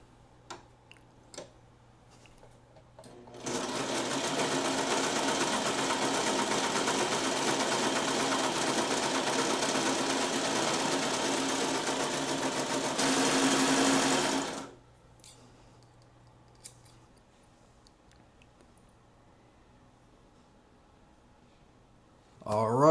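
A serger sewing machine runs steadily at speed for about ten seconds, a loud continuous whirring buzz that surges slightly near the end before stopping abruptly, with a few handling clicks before and after.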